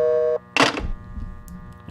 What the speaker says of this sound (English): This beeping is my best friend, by the way.